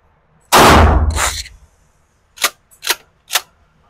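A Mossberg 590S shotgun fires a single loud, sharp blast with a short decaying tail at a shooting range, followed by three quieter mechanical clacks of the action.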